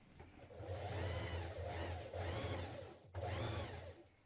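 A sewing machine runs steadily while stitching the shoulder seam of a jumpsuit at a 1.2 cm seam allowance, humming close by in several bursts with a brief pause near the end and no talking.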